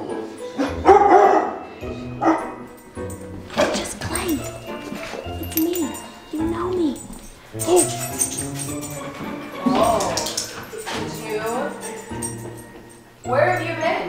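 A dog indoors at home barks in short bursts and whimpers throughout, mixed with near-constant talking and shouting close by.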